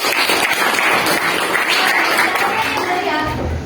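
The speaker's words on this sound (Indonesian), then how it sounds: "silakan beri tepuk tangan untuk kelompok" A classroom of students claps for a group during a geometric sequences math lesson, a continuous, moderately loud patter of many hands that stays even throughout and eases slightly at the very end.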